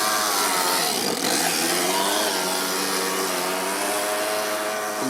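Four-stroke overhead cam engine fitted in an RC car, driving and drifting: a continuous, high-pitched, raspy buzz with layered harmonics, close and loud, revving slightly early on and then holding steady.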